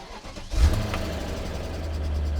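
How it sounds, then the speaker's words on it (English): A BMW E39 M5 V8 with a roughly ten-year-old battery cranks briefly, then catches and settles into a steady, rumbling idle close by, with no talking. "Cold start."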